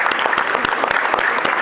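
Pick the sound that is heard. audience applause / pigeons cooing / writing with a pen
audience applause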